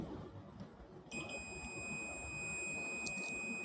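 An ANENG-682 multimeter in continuity mode sounds a steady high-pitched beep that starts abruptly after a soft click and holds unbroken to the end, clear and close over faint background hiss.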